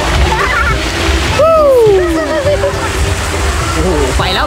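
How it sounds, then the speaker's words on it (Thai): Children play in the sea at a beach resort in Phetchaburi, Thailand, making steady watery splashes and sloshing beneath excited voices and talk. "เดี๋ยวให้เด็กๆเล่นน้ำทะเลกันไปก่อน"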